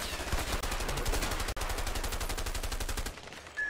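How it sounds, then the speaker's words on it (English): Rapid automatic gunfire in the video game A Way Out, a fast, even stream of loud shots that briefly breaks twice and then stops, leaving a short tone at the end. "I'm shooting at those guys and they're not taking any damage."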